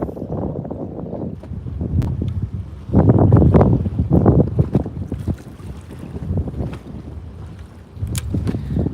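Strong wind gusts buffet the microphone in loud, uneven surges that rise and fall over a low rumble on the water while bass fishing, with no talking.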